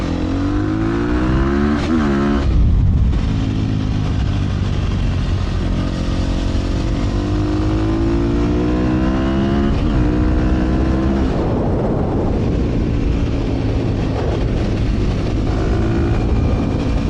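Engine of a Sherco 300 motorcycle converted to supermoto running loud and close throughout, with steady revving and rising, falling pitch sweeps as the throttle changes.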